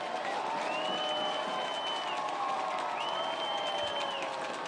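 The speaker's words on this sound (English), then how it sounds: "Saints crowd here trying to cheer on their unbeaten home team" Home crowd at a high school football game, a dense sustained roar of cheering and shouting from the stands, with whistles or horns sounding over it twice.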